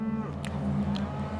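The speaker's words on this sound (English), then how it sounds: "The oldest cow here at the moment's 22 years old." A dairy cow on an Australian farm gives a single sustained moo, loud and close, lasting the whole moment with no talking over it.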